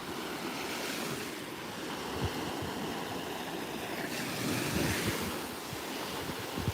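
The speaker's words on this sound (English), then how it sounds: "I could just stand here and just watch these soft waves" Soft surf washing onto a Florida Gulf Coast beach, a steady broad rush of breaking waves with wind noise on the microphone, continuous and fairly close, with no talking.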